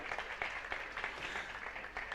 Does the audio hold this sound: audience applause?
yes